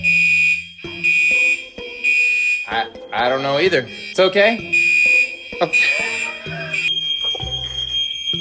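A loud, piercing alarm beeps steadily in a shrill tone while people talk nearby over it, their voices close and anxious.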